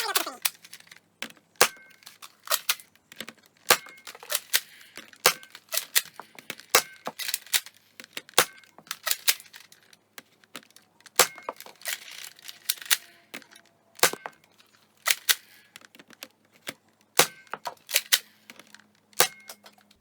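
A FaZe Clan Respawn toy blaster fires red Xshot foam rounds in a long series of sharp, close snaps, each followed by small clattering impacts, at an irregular pace.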